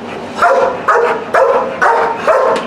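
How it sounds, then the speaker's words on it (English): A protection dog barks in public, giving five loud, evenly spaced barks close by with short pauses between them. "if you look at Axel here and you see him barking at you"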